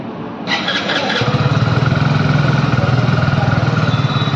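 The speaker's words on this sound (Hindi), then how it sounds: "चलो गाइज अब आपको इस बाइक का एग्जॉस्ट नोट सुनाते हैं।" A 2024 Hero Splendor+ 01 Edition motorcycle engine starts up after a brief crank, then settles into a loud, close, steady idling exhaust thump with even rhythmic pulses.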